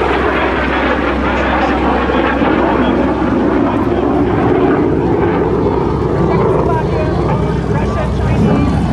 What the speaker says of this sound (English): That is the afterburner. That's raw jet fuel being poured into the exhaust.